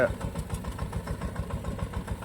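A tractor engine runs steadily in a peanut field, a close, continuous low rumble with a regular throbbing pulse throughout.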